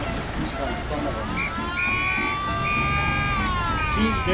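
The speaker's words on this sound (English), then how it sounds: "See, now it's a police car in front of us." A police car siren wails from a vehicle ahead during a chase in the Mafia video game, its rising and falling tone running beneath engine noise and a voice talking over it.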